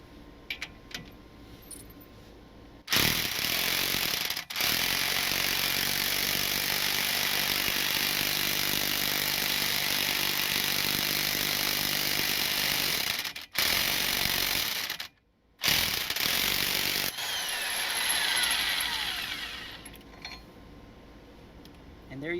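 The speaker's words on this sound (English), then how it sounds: "I can take the impact gun and try to impact it." Pneumatic impact gun driving a new wheel stud into the hub of a Toyota Camry, a loud sustained rattling hammer lasting about ten seconds with short pauses and bursts, set against quieter garage background.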